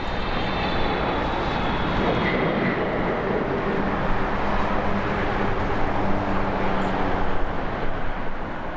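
A heavy airliner on approach to land on runway 7 right at Los Angeles, its loud, continuous jet engine roar sustained and close, with a faint whine layered over the rumble.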